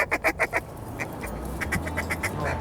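Mallards and Canada geese call on a Michigan waterfowl hunt, with a rapid series of loud honks and quacks up front and scattered calls trailing off over a low outdoor background.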